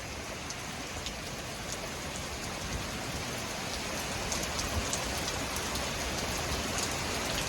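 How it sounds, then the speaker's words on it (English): Heavy rain pours steadily during a severe supercell thunderstorm, a dense, loud, continuous hiss of drops hitting surfaces that builds slightly in intensity, with no voices. "Here's the rain."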